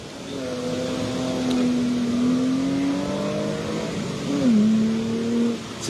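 A race car during hill climb practice at Pourville-sur-Mer, its engine revving and holding a steady tone before a sharp rev and shift, moderately loud against a background wash of crowd and ambient noise.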